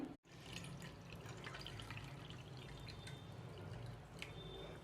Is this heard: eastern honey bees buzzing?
no